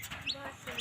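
A chicken gives a couple of short clucks up close in a rural yard, sharp and quick against faint background noise.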